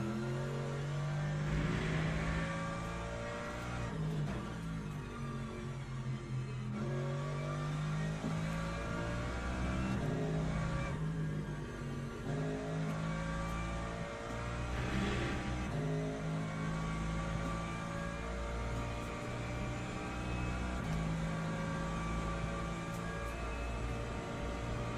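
Race car engine in Le Mans Ultimate droning steadily under throttle, pitch rising and falling through gear changes across the whole stretch, loud and continuous with no talk.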